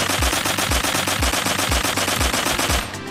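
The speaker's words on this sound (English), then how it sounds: "there's enemies behind there shooting through the hallway" Enemy automatic gunfire from Blockpost, a blocky first-person shooter, rattles in a rapid, evenly spaced burst of loud shots through a hallway, then cuts off abruptly near the end.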